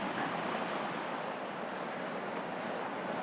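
Sea waves breaking over rocks just offshore, a steady broad wash of surf with some wind buffeting on the microphone, continuous and moderately loud, with no voices.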